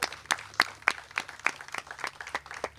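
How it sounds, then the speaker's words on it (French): Sparse, uneven clapping from a small audience at a cooperative entrepreneurship event, a handful of distinct claps spaced irregularly over a few seconds, moderately close and fairly quiet. "j'aimerais ça qu'on les applaudisse"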